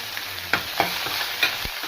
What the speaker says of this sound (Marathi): याला थोडंसं हलवून घ्यायचं।